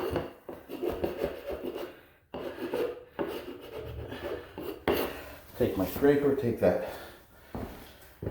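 A hand scraper scraping a dried particle off a buffed floor finish, several short rasping strokes close by, with someone talking over them.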